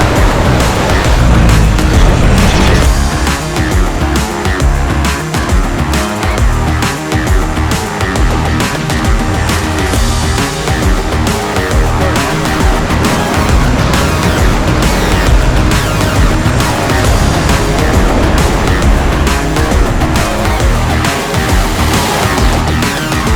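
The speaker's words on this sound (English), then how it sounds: "How good does an 8-car Mahindra convoy look going across Morton Island?" An eight-car convoy of Mahindra 4x4s driving across a sandy beach on Moreton Island, with loud continuous engine and tyre roar mixed with surf, steady and close throughout.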